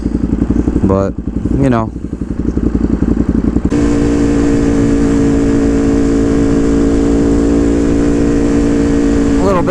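A motorcycle fitted with a VanDemon exhaust pipe runs loud and close, its engine throbbing through a brief rise and fall in revs before settling into a steady idle, while someone talks over it at the start.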